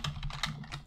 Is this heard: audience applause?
no